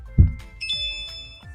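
A school bell gives a brief ding, one strike with a ringing tone that lingers and fades, alone and moderately loud.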